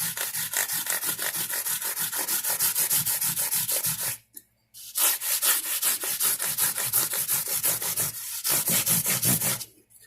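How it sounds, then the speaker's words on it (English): Steady rhythmic sanding strokes on a guitar's frets with a sanding block, loud and close, pausing briefly twice between runs of back-and-forth rubbing. "I'll move my block around on my sanding pad a little bit, just use a different spot."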